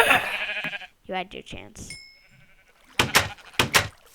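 Sheep bleating in a survival video game, a few short bleats in the second half, after and between a man's spoken lines.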